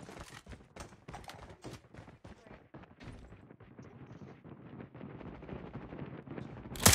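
Assault rifle fire in a Call of Duty Blackout-style shooter game crackles in rapid bursts of shots, moderately loud at first, then thinning into a busier background with a sharp noise at the end.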